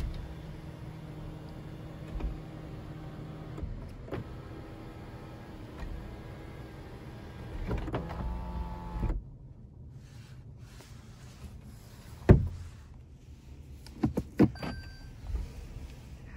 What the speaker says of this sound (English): We can tilt or slide the roof.